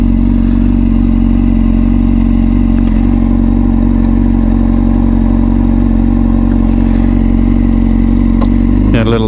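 A 2005 Honda CBR600RR being ridden at high altitude: a loud, steady engine drone holds throughout under heavy wind rush, with a brief rise in pitch at the very end.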